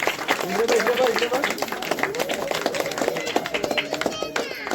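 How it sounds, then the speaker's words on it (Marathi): People clap by hand at a traditional village engagement ceremony in Konkan, with a steady scatter of claps running under close, lively talk from several voices. "टाळ्या वाजा"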